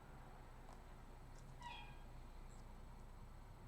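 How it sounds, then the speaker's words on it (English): A pet cat gives a short, faint meow partway through, alone against a steady low background hum in a quiet indoor room. "My cat's meowing now."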